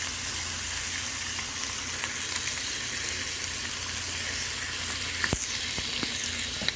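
Thick-cut smoked bacon frying in a cast iron pan, a steady close crackling sizzle with scattered sharp pops and a few spatters, no voices over it.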